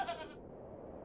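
A goat in The Excavation of Hob's Barrow game lets out one short, close bleat at the start, which quickly trails off into quiet background.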